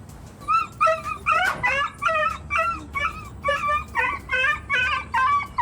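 A frightened dog whimpers and yelps in a rapid run of high, wavering cries, close and fairly loud, over a low background hum.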